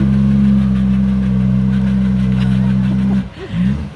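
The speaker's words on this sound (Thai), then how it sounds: "เราเฟืองขับดังฟึดฟึดฟึดฟึดเลยครับ" A Hitachi ZX200-5G excavator runs at close range with a steady low mechanical drone from its drive gear, which falters and wavers briefly near the end.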